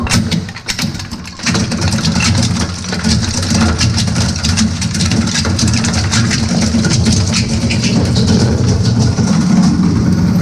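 A Zerma GSL 180-430 granulator with a 5 horsepower motor grinds hardened parts, producing a loud, continuous churning roar with dense rattling and crunching throughout.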